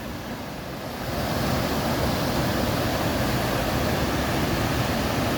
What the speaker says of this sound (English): Part of the River Fallock.